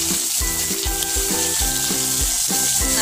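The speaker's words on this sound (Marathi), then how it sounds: "कांदे छान आपल्याला भाजून घ्यायचे आहे" Onions frying in oil with garlic and curry leaves in a pan, a loud continuous sizzle with rhythmic bursts of crackle and stirring throughout, close up.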